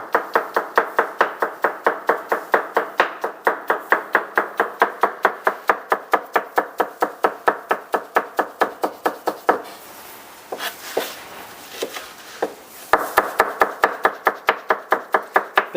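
A knife chops meat for Adana kebab rapidly and rhythmically on a board, steady sharp knocks with a brief pause, then resuming; close and clear.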